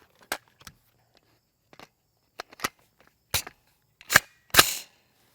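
Several sharp, loud reports from a short-barrel rifle with an 8-inch barrel striking a Level IIIA mini shield, spaced irregularly with the last two shots loudest and closest together.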